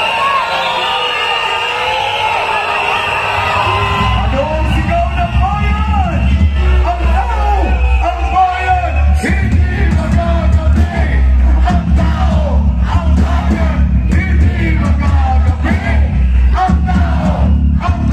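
A large crowd at a political rally shouts and cheers in a loud, continuous roar of overlapping voices, building from a raised chorus into dense yelling that fills the whole stretch.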